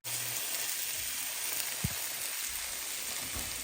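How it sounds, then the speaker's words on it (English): Bacon-wrapped food sizzles in a pan for a Christmas Eve meal, giving a quiet, continuous crackling hiss throughout, with no voices. "Here they are cooking. They're starting to sizzle."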